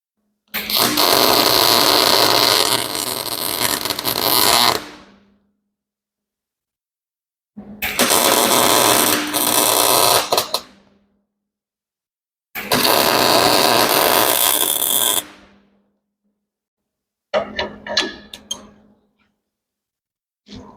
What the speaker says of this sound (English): we're going to have to do a bit of overhead welding